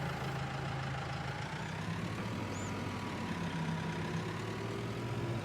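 A tractor engine idles in Farming Simulator 22, a steady low rumbling drone with a constant even hum that stays level throughout, with no voices.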